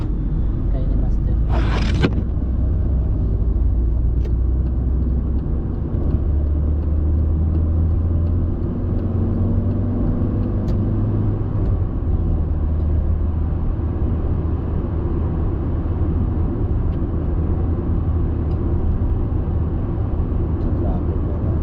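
Car traffic on Shamal Road in Doha at night rolls past as a steady low rumble with engine drone throughout, close and continuous, and one sharp clatter early on.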